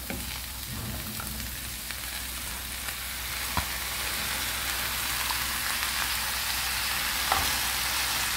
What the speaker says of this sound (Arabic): صافي من بعد ما تشحرات ليا البصله غنزيد عليها لي زيبيناغ